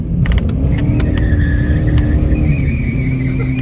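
A drift car spins donuts close by, its engine roaring steadily while the tyres squeal and skid continuously throughout the short burst, with no talking.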